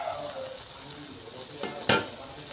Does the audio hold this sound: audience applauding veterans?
no